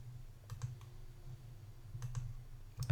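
A computer mouse clicks in quilt design software, with sharp, close, fairly quiet clicks in small clusters near the start, middle and end over a low steady hum.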